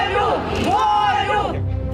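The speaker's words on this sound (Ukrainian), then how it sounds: "А опісля слухання підбадьорюючими вигуками проведжають його до конвойного автомобіля" A crowd shouts encouraging chants at a defendant as he is led from a courtroom hearing to a prison convoy vehicle, loud rhythmic collective yelling close by for the whole stretch.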